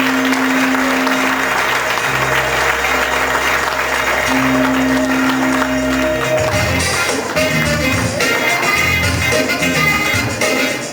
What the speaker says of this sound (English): Please give a great big round of applause to Mr. Scardina.